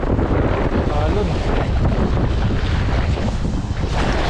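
Loud, constant wind buffeting and rushing water surround a small fishing boat out at sea, a dense roar with no pauses.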